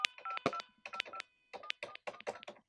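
A rapid run of touch-tone keypad beeps from an AT&T Merlin phone with no dial tone, short distinct tones in quick bursts with brief pauses, close and clear.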